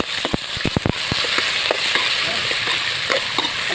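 Takway stalks being stirred in a frying pan give a steady close sizzle with sharp crackles and a cluster of spatula knocks early on, softer scrapes afterward.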